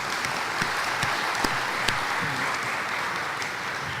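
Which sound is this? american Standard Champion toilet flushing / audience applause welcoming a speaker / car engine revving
audience applause welcoming a speaker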